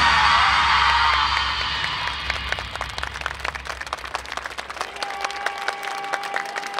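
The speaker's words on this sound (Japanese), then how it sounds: "たくさんの喝采いただきました" Audience at the 2017 Kisarazu dance festival bursts into loud applause and cheering, a dense wash of clapping and whoops that gradually thins to scattered claps.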